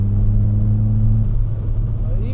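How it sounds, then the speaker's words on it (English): Skoda Fabia vRS 1.9 TDI diesel engine while driving, a steady loud low droning rumble with even hum through the cabin, easing slightly toward the end. "it's a pretty sound car"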